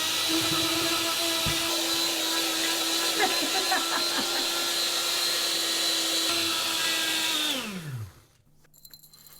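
Dried leek ground into powder in a small electric grinder, a loud steady motor whine with rattling contents that winds down and cuts off near the end, followed by quiet room tone.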